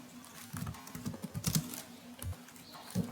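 Python code typed on a computer keyboard, with close, irregular bursts of key clicks at a modest volume and no voice over them.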